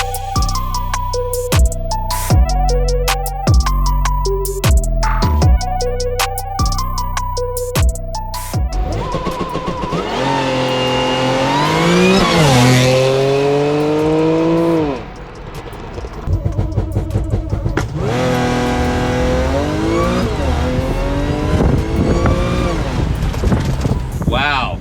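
A supercharged stage 1 Audi on 91 pump gas and DWS 06 tires launches hard on a street run, its engine note climbing through the gears in rising sweeps with a brief dip at a shift, after a stretch of music.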